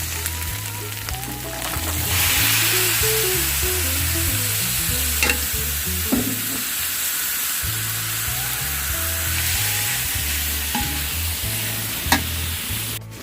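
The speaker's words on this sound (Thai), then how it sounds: "หมูสุกแล้วนะคะ หอม ก็ใส่มะเขือลงไปผัดค่ะ" Eggplant is stir-fried with pork in a pan for Thai green curry, a loud, continuous sizzle with rhythmic spatula scraping and stirring strokes all the way through, with no talking.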